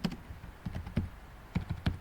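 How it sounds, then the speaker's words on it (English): A computer keyboard typed on at close range, with a short uneven run of distinct key taps in small clusters and a brief pause midway, no voice over it. "I'm gonna type"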